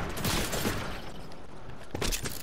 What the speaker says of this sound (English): they shooting fireworks outside that house right now